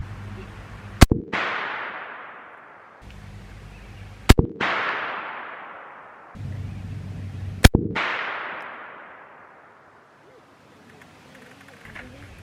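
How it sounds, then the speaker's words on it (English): Three sharp, loud shotgun blasts from FireStar 5-pellet turkey loads, spaced a few seconds apart, each followed by a long fading echo outdoors. "I'm probably going to shoot twice on the 5 pellets"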